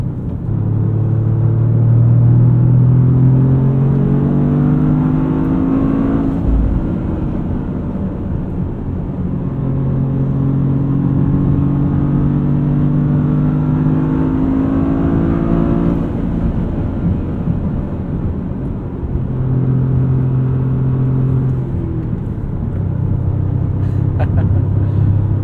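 A 2025 Toyota GR Corolla engine heard from inside the car on a test drive, rising through the revs in sweeping pulls to the limiter in second gear, with loud cabin drone and gear changes between runs.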